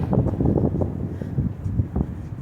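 Wind gusts buffet an outdoor microphone in a steady low rumble with rustling bursts, close and continuous, with no voices.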